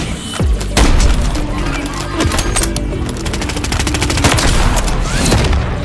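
Gunfire in a Search & Destroy video game match: loud, sustained rapid automatic fire with heavy booming hits mixed in, close and continuous throughout.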